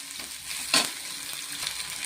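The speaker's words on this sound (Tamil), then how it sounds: "வெங்காயம் லேசாக வதங்கினா போதும்" Onions sautéing in a pan for paniyaram batter, a steady soft sizzle with one brief louder stir, close and without talk.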